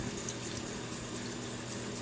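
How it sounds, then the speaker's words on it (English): Water streaming steadily from a tap onto a ferret's back during a bath, a constant close, even hiss and splash that stays level throughout. "to introduce him to the water, slowly start putting it on his back"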